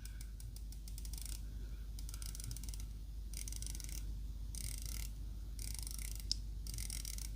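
Ceramic bezel on an Addiesdive MY-H9 dive watch turning in bursts of crisp, rapid ratchet clicks, close and quiet, with short pauses between each run of clicking.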